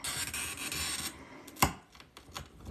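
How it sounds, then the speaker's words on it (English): A glass circle cutter scores a line across fused glass with a steady dry rasp for about a second. A short quiet follows, then one sharp click and a few faint scratches. "I normally don't cut circles this way, but that's the circle cutter that I have."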